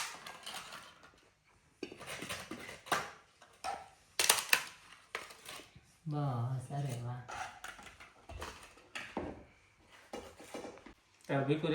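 Dishes clink and cutlery rattles in a home kitchen as a thali plate is readied for guests, scattered short knocks and clatters coming in bursts, with people talking between and over them.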